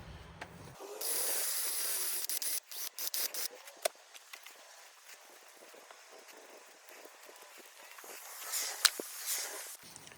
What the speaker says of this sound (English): And a little brake clean just to make sure everything's nice.